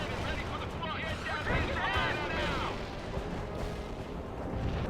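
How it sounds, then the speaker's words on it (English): Gunfire and artillery rumble through a World in Conflict battle, with dense crackling shots and low booms running underneath radio-style voice chatter throughout. "They're firing at us."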